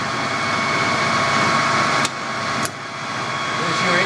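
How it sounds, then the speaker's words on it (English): A Clausing Colchester VS12 lathe runs with a steady, loud mechanical hum as its carriage feeds under power toward the chuck, with two brief clicks partway through and a voice speaking over it. "Carriage is speeding toward the chuck."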